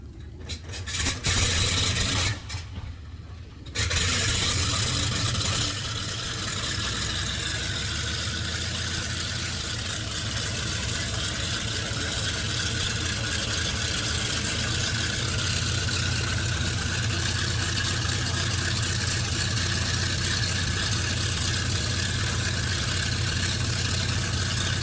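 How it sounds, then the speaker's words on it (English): The four Wright R3350 Duplex Cyclone radial engines of a World War II B-29 Superfortress bomber start up, with sputtering catches early on that settle into a loud, steady, deep idling roar. "They had 4 powerful Wright R3350 duplex Cyclone engines, and this is what they sounded like"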